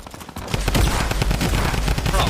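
Tommy gun fire in Fortnite, a dense rapid rattle of automatic shots starting after a brief quiet moment and continuing loud and unbroken to the end.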